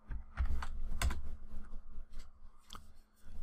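Close, crisp clicking of keys typed on a computer keyboard, a quick irregular burst of taps and a few scattered strokes, with no talking over it.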